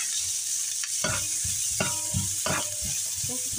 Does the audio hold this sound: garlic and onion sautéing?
yes